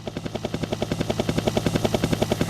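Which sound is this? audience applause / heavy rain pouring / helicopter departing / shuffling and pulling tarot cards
helicopter departing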